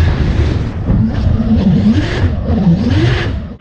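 A Nissan Skyline drift car's engine revs hard at a drift gymkhana start at Goodwood Speedweek, a loud, rising and wavering engine note with no voices over it.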